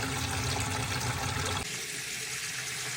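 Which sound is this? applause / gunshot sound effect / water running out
water running out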